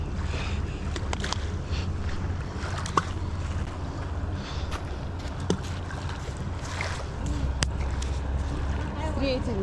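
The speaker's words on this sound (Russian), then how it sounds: "Смотри, катеры встретились." Motorboats pass each other on open water, a steady low engine drone with wash and wind noise underneath, and people talking nearby throughout.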